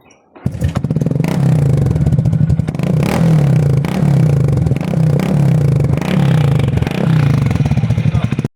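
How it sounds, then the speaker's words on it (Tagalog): A Honda XRM 125 motorcycle with a new exhaust starts and runs loud and close, its engine pulsing with rhythmic revs and rattling over several seconds. "Tambutso sa motor."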